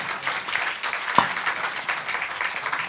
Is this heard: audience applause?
yes